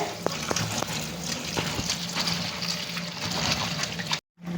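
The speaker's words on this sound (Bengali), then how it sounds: "পাট শাকটা আমি ভালো করে ধুয়ে নিচ্ছি" Jute leaves being washed in water, with close splashing and sloshing plus a few light knocks, stopping abruptly just before the end.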